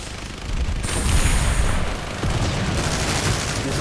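In a multiplayer combat video game, a grenade blast and a spray of gunfire burst out loud and close, followed by continued rumbling fire and booms.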